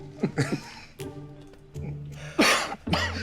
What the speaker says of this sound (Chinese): 这看你咳嗽的